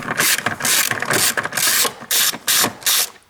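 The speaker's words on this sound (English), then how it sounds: "for that opening I need 10 mm socket, and I open this bolt" Ratchet with a 10 mm socket loosening a bolt in the front engine area of a Toyota Corolla, heard as a close, loud series of rapid clicking bursts in quick succession with short pauses between strokes.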